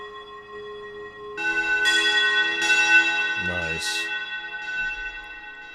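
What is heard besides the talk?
Distant Chimes synth preset on Cherry Audio Chroma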